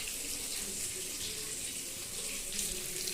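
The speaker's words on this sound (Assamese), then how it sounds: "ইয়াতে গৰম পানীখিনি এড কৰি, বেছি নিদিওঁ, অলপমান" Hot water pours into a frying pan of fried ingredients to start a gravy, making a steady, continuous rushing hiss that holds at an even level throughout with no talk.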